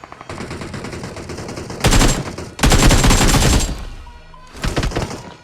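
Automatic gunfire in a BGMI video game fight comes in loud rapid bursts separated by brief pauses, with a final short burst trailing off at the end.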